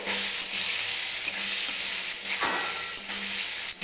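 Finely chopped onion and tomato fry in a pan over a low to medium flame, giving a steady close sizzle with faint stirring scrapes throughout and no speech.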